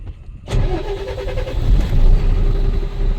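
A Tata Signa BS6 phase 2 truck with a pickup problem cranks and catches after a brief quiet moment, then its diesel engine revs up and holds a loud, rising roar close by.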